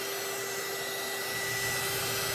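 An embossing heat gun blows hot air onto alcohol ink, a loud, steady whirring hiss with a constant whine, continuous throughout.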